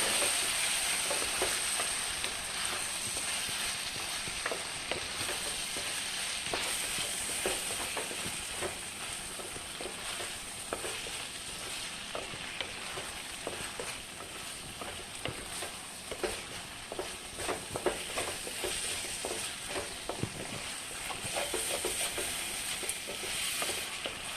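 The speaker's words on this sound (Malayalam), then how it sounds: "നമുക്ക് അരിഞ്ഞു വെച്ചിരുന്ന പച്ചമുളക് ഇതിനകത്ത് ചേർത്ത്, പച്ചമുളകൊന്നും ഒത്തിരി മൂത്ത് പോകണ്ട, ചെറുതായിട്ടൊന്ന് വാടിയാൽ മതി" Chopped green chillies fry in a pan for a chilli butter paneer curry, a continuous close crackling sizzle with dense tiny pops and occasional stirring scrapes, lasting throughout with no talk.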